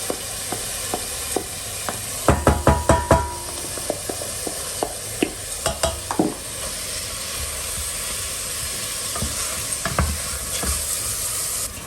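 Onion purée sizzles and spits in a hot pan, with a burst of sharp clattering utensil taps early on and further scattered knocks over a steady frying hiss, no voices.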